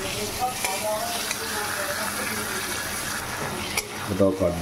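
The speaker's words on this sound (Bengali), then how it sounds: "টমেটো সসটা দিয়ে ভালো করে নাড়িয়ে চাড়িয়ে কষিয়ে নিতে হবে।" Chana masala with tomato sauce frying in a pan, a continuous loud sizzle with clattering spoon strokes and scraping as the mixture is stirred, a brief clink near the end.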